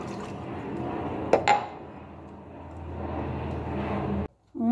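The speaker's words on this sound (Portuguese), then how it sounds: "agora eu vou vir com o leite, tá? São 150 ml de leite" 150 ml of milk is poured into banana cake batter in a bowl, a continuous close liquid splashing and gurgling with a brief clink of glass partway through, ending abruptly.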